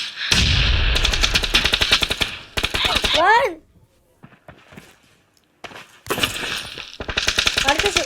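Shooter video game gunfire aimed for headshots: loud, close rapid automatic bursts, several seconds each, broken by a quieter pause with scattered single shots and short rising chirps.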